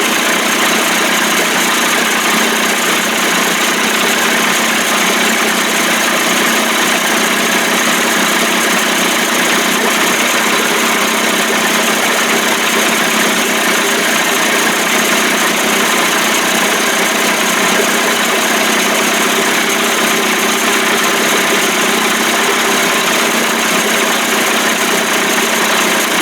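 Old 1989 Johnson Tracker 25 hp outboard motor running continuously with a loud, steady, buzzy drone and no change in pitch or pauses, with no voices.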